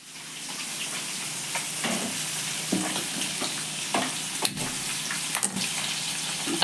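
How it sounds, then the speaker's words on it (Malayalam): Sardine fish curry bubbling in a pan, a steady close simmering hiss broken by scattered pops and light knocks. "തിളക്കട്ടെ, നന്നായി തിളക്കട്ടെ."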